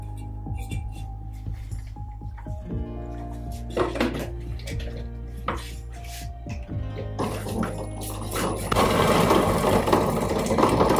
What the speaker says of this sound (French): Alors, je la place tout simplement dans un robot coupe.